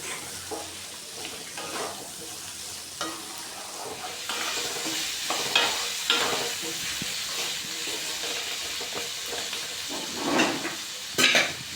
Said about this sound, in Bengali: আলুটাকে বেশ লাল করে ভাজতে হবে।